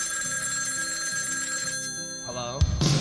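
A telephone rings over a steady music bed, its tone running through most of the moment before a sharp pickup-like clatter and burst of noise near the end.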